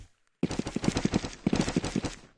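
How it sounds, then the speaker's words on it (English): Rapid bursts of gunfire-like blasts from a miracle cannon in the game Jujutsu Shenanigans, two loud volleys of about eight shots each, separated by a brief pause. "miracle cannon."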